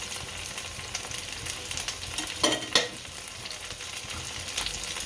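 Rava and potato snack frying in oil in a pan, a steady soft hiss and crackle throughout with a couple of brief louder scrapes near the middle, close by and with no talking.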